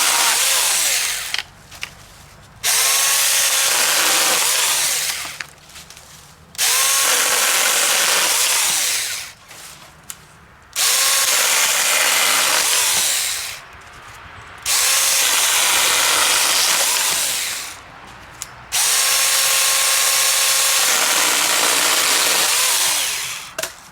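A Saker 4-inch electric mini chainsaw whines loudly in repeated bursts, each lasting a couple of seconds, cutting small branches, with short pauses between cuts.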